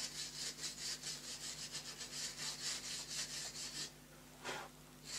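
A brush scrubs the rear mudguard of a Yamaha DT 50 moped, making steady rhythmic back-and-forth rasping strokes with a low hum underneath, then a pause and one more stroke.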